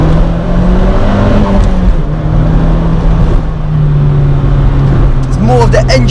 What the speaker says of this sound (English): It's more of the engine noise.